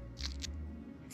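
Dry petals of a paper daisy crackle and rustle in two quick, faint crunches, like stiff paper being handled outdoors on a hiking trail over a low background hum.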